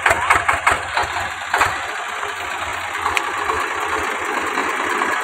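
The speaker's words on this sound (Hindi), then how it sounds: "फाइनली साहब ने ट्रैक्टर चालू कर लिया" A tractor engine sputters and catches with a few sharp knocks, then settles into a steady, rumbling idle close by.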